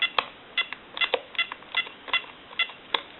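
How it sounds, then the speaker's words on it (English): Rapid DTMF keypad tones from an AT&T 530 corded telephone, about nine short beeps in an uneven dialing rhythm, close and clear with no voices. "I'll dial my number"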